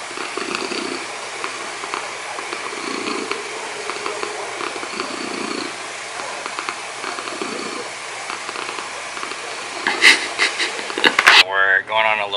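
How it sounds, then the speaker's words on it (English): A cat purrs loudly and continuously at close range, a steady rumbling drone, with a few brief sharper sounds near the end. "Can you hear her purring? It's very loud."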